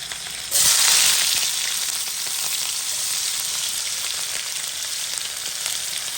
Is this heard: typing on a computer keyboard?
no